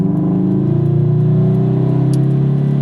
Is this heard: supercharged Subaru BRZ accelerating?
yes